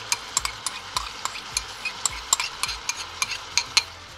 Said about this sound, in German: Nun kommen unsere Zwiebeln dazu.